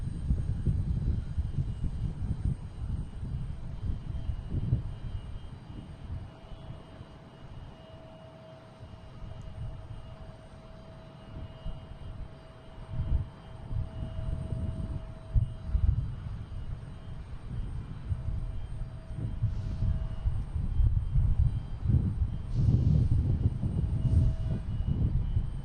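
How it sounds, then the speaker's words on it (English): A JetBlue Airbus A220 takes off from Boston Logan on a flight to Detroit, its engines a long, loud, rumbling roar that rises and falls for the whole stretch, with a faint steady whine above it. "we got JetBlue taking off. This is heading to Detroit, an A220"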